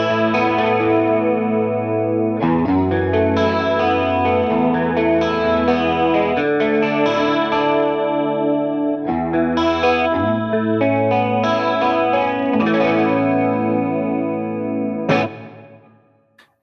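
Clean electric guitar on a Fano PX6, played through a Fractal Audio 80s cover-band preset with chorus shimmer, ringing chords and arpeggios sustaining steadily for about fifteen seconds before fading out, no voices.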